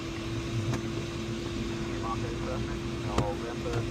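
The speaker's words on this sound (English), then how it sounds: "Here's what it's like stalling a 20 meter, 65 foot wingspan glider." A 20 meter (65 foot) wingspan DG505MB self-launching glider stalls in flight, giving a steady rushing roar of airflow with a constant underlying hum and a few brief clicks.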